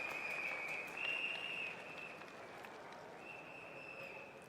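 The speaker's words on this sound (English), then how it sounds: "Let's give him a big round of applause, everybody." An outdoor crowd at a political rally in Singapore applauds a politician's arrival, with a steady wash of clapping at moderate distance and a sustained high tone, likely feedback, above it.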